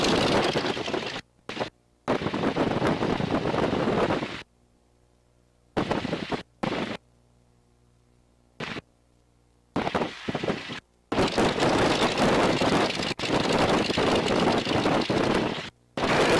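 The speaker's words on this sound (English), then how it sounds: "It is quite windy." Loud gusty wind at an airfield buffeting the microphone in bursts, cutting in and out with quiet gaps between the roaring rushes.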